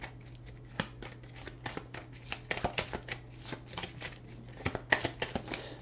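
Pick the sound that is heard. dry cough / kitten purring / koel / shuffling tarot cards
shuffling tarot cards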